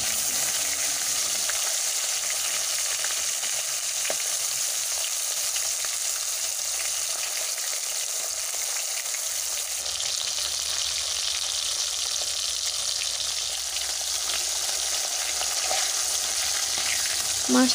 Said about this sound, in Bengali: সবকটা মাছ তেলের মধ্যে ভেজে নিচ্ছি ভালো করে।